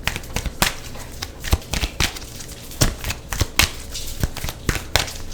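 Tarot cards are shuffled by hand in quick, irregular bursts of crisp riffles and slaps, close and fairly quiet, with no speech over them.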